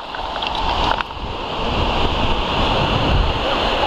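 Waves wash onto the sand at Lido Beach in Venice, a broad, continuous roar of surf with gusts of wind buffeting the microphone, steady and close, with no speech.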